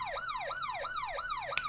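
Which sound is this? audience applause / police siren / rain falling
police siren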